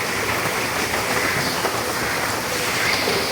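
Steady, dense rain hiss fills the whole stretch, an even wash of drops without pauses or voices.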